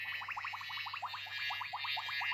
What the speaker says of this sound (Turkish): arı sesi çıkarıyor